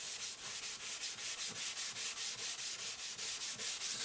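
Light sanding strokes rub across dyed wood on a roughly 40-year-old Korean-made Fender acoustic guitar, a steady rhythmic back-and-forth scuffing of about two strokes per second, close and fairly quiet with no talk.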